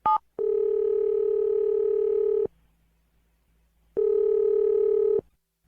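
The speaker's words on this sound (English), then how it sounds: "We're going to dial the phone number right now." A telephone dial tone sounds loud and steady in two long bursts with a short gap between them. A brief keypad beep comes first, and there is no talk.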